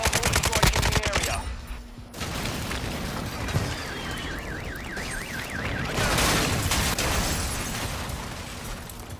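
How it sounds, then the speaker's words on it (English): Video game battle noise: a loud burst of gunfire and explosions from a mortar strike opens, then continues as rumbling blasts and scattered shots with a warbling alarm-like tone and occasional game voice lines. "Hostile mortar strike in the area."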